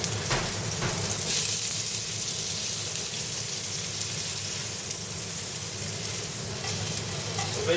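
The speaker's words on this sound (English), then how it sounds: "So basically one side of salmon is seared now" A salmon fillet sears in a pan alongside pancetta and vegetables, making a loud, steady, rain-like sizzle that holds evenly throughout with no voices.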